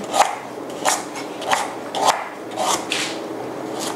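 A knife slices firm galangal on a board, a handful of rasping, evenly spaced cuts, close up and moderately loud.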